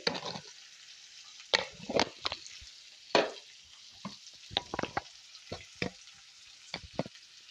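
Onion pieces fry in a pan for a cauliflower tomato masala curry, with a soft continuous sizzle under several sharp bursts and spatula stirs and scrapes. The sounds are close and irregular, with no talking.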